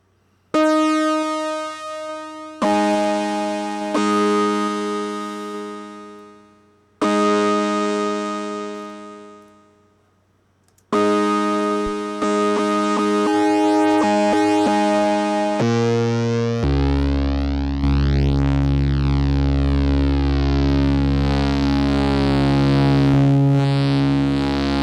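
Moog Matriarch synthesizer with a low shelf filter, played as loud sustained tones that stop and restart, then a deep droning note with a sweeping, phasing quality that builds over the last stretch, with no voices.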